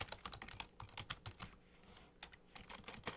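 A computer keyboard clatters in short, quick taps at a CAD workstation, closely miked and fairly quiet, ending in a firmer Enter press, with no voices.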